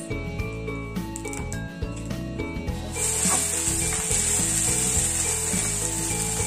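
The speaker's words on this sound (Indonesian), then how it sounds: "sekarang kita tumis ya" Potato, carrot and leek sautéing in a pan in a home kitchen, a steady sizzle that grows brighter and louder partway through, over clinking and rustling kitchen noises.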